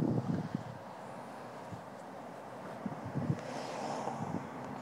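Cold wind blows outdoors around a house, a steady broadband rush with gusts rising and falling throughout, close to the microphone and with no talk.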